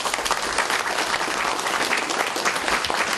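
Applause from a seated audience at a party leadership meeting congratulating winners of a primary, a dense, steady clapping close by that lasts the whole stretch, with a faint voice beneath.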